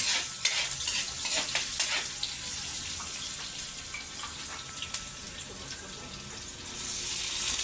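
Adobong kangkong with tofu sizzles hard in a pan, a constant bright crackle with scattered sharp pops and stirring scrapes throughout, close and fairly loud with no talking.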